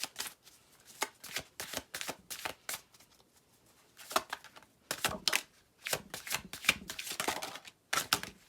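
Tarot cards being shuffled by hand: a series of crisp riffling and flicking bursts in irregular rhythm, close and fairly quiet, with no talking.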